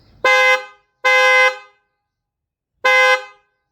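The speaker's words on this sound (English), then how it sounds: "Here is how it sounds like when both the horns are working." A Kia Sportage car horn sounds three times, two close blasts then a pause and a third, with high and low pitch horns together giving a full, blended tone, loud and near.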